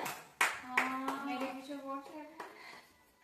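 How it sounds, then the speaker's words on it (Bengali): Hand claps ring out in a few sharp, close bursts, mixed with a voice and other voices talking and singing over them. "হাততালি হাততালি।"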